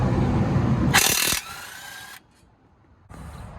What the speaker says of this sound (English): There are 2 more bolts right here that we will need to take off as well using our socket set